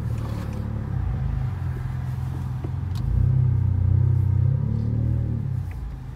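A 2019-2020 Honda Accord Sport 1.5T with a tuned exhaust drives along with a low, steady engine rumble that swells into a louder drone midway, heard from inside the cabin, no talking.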